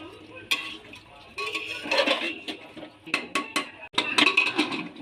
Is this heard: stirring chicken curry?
yes